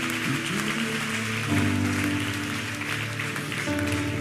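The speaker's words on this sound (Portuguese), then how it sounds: "Uou, pode aplaudir a ele." A church congregation claps together in steady, dense applause. It carries across the room under sustained organ or keyboard chords, with no talking over it.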